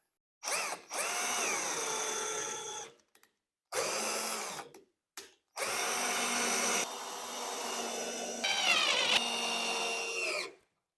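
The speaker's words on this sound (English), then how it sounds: "you can screw all the other screws" A power drill drives screws into the frame of an IKEA PAX wardrobe, in several close, loud whirring bursts with short gaps between them, the pitch rising and falling as each screw runs in and tightens.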